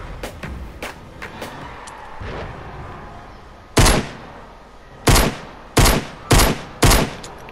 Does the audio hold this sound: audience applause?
no